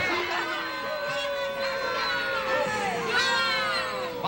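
A crowd in a comedy sketch jeering and shouting, many overlapping voices yelling and hooting in a loud, continuous rowdy clamor.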